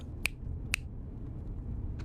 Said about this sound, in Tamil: வேணும்னா இன்னும் 4 சொடக்கு போடுறேன்